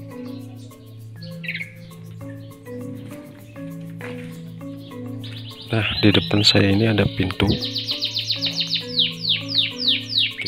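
Jalak suren (Asian pied starling) kept as a guard bird near a house yard gives loud, repeated, rapid harsh alarm calls in a burst, over softer chirps, steady background tones and someone talking nearby.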